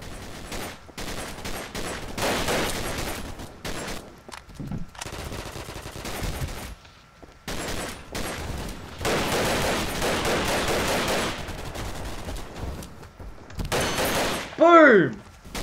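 Video game gunfire crackles in repeated automatic bursts and single loud shots, with pauses between volleys and a player's voice heard in places.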